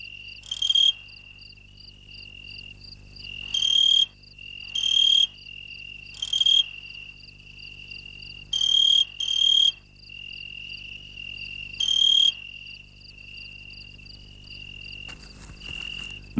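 A steady high-pitched trill of crickets in a garden runs throughout, with louder bursts of chirping cutting in at irregular intervals, nearby and unaccompanied by speech.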